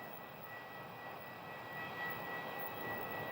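A Mesa Airlines CRJ regional jet taxis for departure at Sky Harbor airport, its engines giving a steady, distant, fairly faint whine and rumble that swells slightly toward the end.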